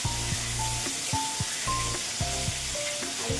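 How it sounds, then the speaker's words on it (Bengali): Potato pieces frying in hot oil in a home kitchen pan, a steady close sizzle with occasional stirring scrapes and clinks of a spatula throughout, no talking. "লাল লাল করে আলুটা ভেজে নিচ্ছি"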